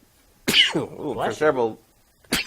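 A sharp, sudden sneeze bursts out near the start, followed by someone speaking, then a quick second sneeze-like burst at the end.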